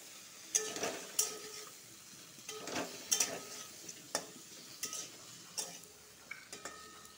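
Rohu fish pieces with salt and turmeric are stirred in a pan, giving soft scraping strokes and occasional sharp utensil clicks against the metal over a faint sizzle, close and fairly quiet.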